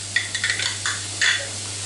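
Garlic roasting briefly in a pot, a soft hiss and a few light stirring scrapes over a steady low hum, quiet and close.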